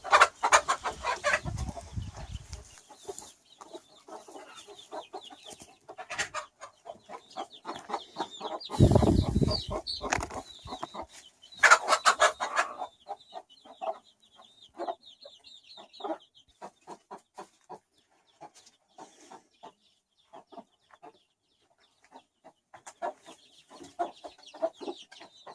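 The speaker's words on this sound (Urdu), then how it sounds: "آپ کو جو یہ مرغی نظر آ رہی ہے تو یہ انڈے اسی مرغی کے" Aseel hen clucking close by in a farmyard, with repeated short clucks and a few louder squawking bursts scattered through, some rooster-like calls, no talking.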